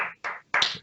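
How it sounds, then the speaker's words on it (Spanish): Applause at a talk event, heard as a few sharp hand claps in quick succession, separated by short silences, close and fairly loud. "Un aplauso."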